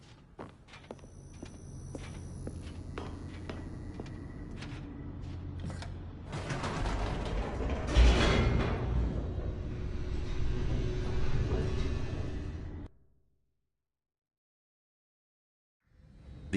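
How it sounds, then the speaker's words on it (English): Steady mechanical rumble of a descending elevator in The Stanley Parable, building and rattling louder for several seconds, then cutting abruptly to silence before a faint return at the end. "The elevator raced downward, plummeting towards an unknown fate."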